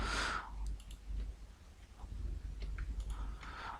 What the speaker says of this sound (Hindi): सबको मैं शिफ्ट दबा के इस पर क्लिक करता रहूँगा